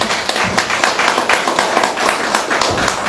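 A church congregation claps hands together at a worship service, a loud, dense and steady patter of many palms with a rhythmic pulse, with faint voices mixed underneath.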